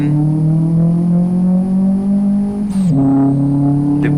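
A Saveiro 1.6 single turbo car in Live for Speed accelerates hard at full throttle, its engine drone climbing steadily before a brief dip at a gear change and then rising again, loud and close.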